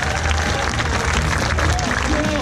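Spectators at an ultra-distance running race applaud together, a short burst of dense, steady clapping and crowd noise close by, with no clear speech.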